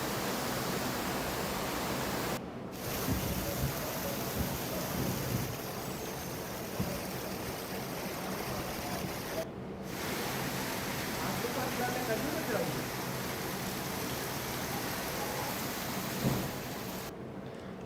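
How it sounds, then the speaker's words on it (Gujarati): Heavy rain pours down at night over a rural area of Idar in Sabarkantha, Gujarat, a dense, constant roaring wash with distant thunder rumbling beneath, steady and loud for the whole stretch apart from a few brief cuts. "સાબરકાંઠાના ઈડરના ગ્રામીણ વિસ્તારમાં વરસાદ।"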